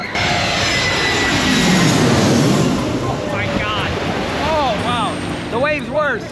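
A jet airplane comes in low over the sea near a cruise ship, its loud broad engine roar building over surf and wind, with brief voices and whoops from people nearby.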